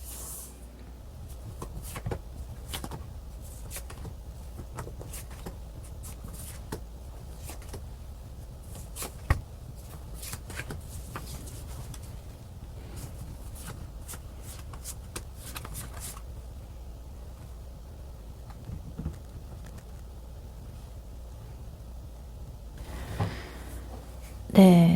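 Tarot cards are shuffled for a reading in a quiet room, with repeated close riffles and soft card slaps spread across the whole stretch, ending with a louder shuffle.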